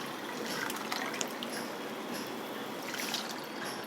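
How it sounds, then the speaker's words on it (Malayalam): Water poured a little at a time into a clay pot of jackfruit seeds, a soft steady trickle and splash that runs the whole time at low level, with no voices. "അല്പം വെള്ളം ഒഴിച്ചുള്ളൂ"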